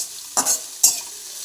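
Two quick stirring strokes scrape through bitter gourd slices frying in an iron wok, each a short sizzling swish close by, with a soft hiss of oil between them and no talking.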